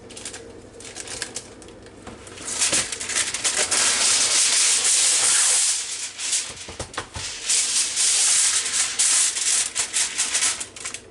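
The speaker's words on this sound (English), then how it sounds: "I'm going to wrap my turkey up in aluminum foil." Aluminum foil being wrapped around turkey legs in a roasting pan, close crinkling and rustling in repeated bursts with short pauses between them.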